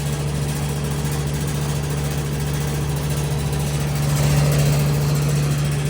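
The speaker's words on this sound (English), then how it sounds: "it does sound very rattly. It's got a reciprocating compressor." An air conditioner with a reciprocating compressor runs close by, a steady loud hum with a low tone and a rattly, buzzing texture that swells slightly toward the end.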